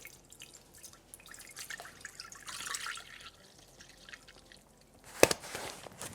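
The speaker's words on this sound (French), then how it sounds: "Je verse mon lait à l'intérieur du bol." Milk poured into the bowl of a Thermomix TM7 kitchen machine, a soft trickling and dripping stream heard close and fairly quiet, ending with a brief sharper splash near the end.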